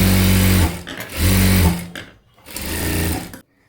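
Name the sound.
sewing machine stitching blouse sleeve edge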